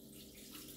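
Water pours steadily into a Thermomix TM6 bowl, a quiet continuous splashing stream while measuring out water for Hungarian langos dough.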